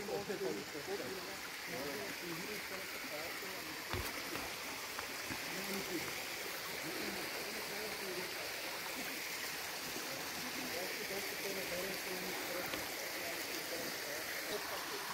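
Steady wash of water flowing through natural river pools in the Petrenski Dol valley, Bulgaria, a continuous close rush and babble with little change, and a voice speaking faintly underneath.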